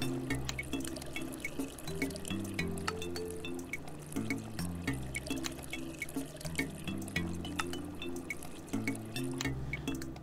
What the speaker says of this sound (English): Pour this one out as well.